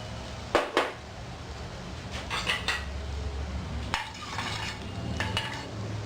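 Whole pepper, cloves, cardamom and hing frying in a pan for rajma masala, a low steady sizzle with a few sharp clinks of a spoon against the pan and soft stirring scrapes throughout.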